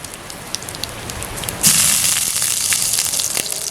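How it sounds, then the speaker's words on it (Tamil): Mustard seeds splutter in hot oil in a pan while cooking bitter gourd poriyal, a light crackle that jumps to a dense, loud popping and hissing burst that keeps going. "ஸோ இந்த கடுகை ஆட் பண்ண பிறகு கடுகு நல்லா பொரியட்டும்"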